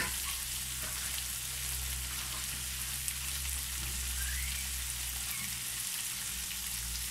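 Mung bean soup bubbles and simmers in a pot, giving a continuous, even crackling hiss at moderate volume with no talk.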